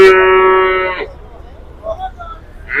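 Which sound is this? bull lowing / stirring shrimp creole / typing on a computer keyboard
bull lowing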